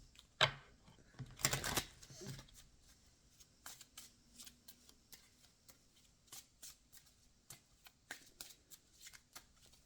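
A deck of angel cards being shuffled by hand: a quick riffle burst early on, then soft, scattered card slides and taps, close and quiet, no talk.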